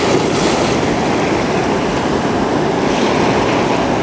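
Surf rolls in and crashes against rocks along an ocean shore, a continuous dense seething roar with gentle rises and falls, wind brushing across the microphone and nobody speaking.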